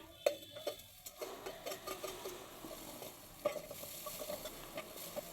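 Carrot and capsicum are stir-fried in a pan, with a steady sizzle under repeated stirring and scraping strokes and occasional light clinks of a spoon against the metal, close and moderately loud.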